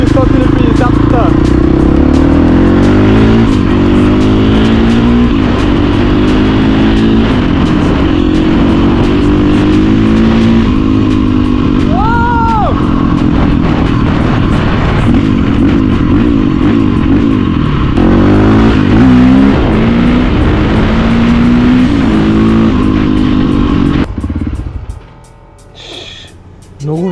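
Close 450cc motorcycle engine running and revving, rising and falling through repeated throttle blips under loud ongoing talk, then cutting off to quiet near the end.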